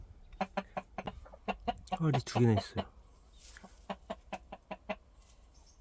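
Chickens cluck in short repeated bursts with a few louder squawks, close by in a temporary coop in the countryside, while a person speaks briefly over them.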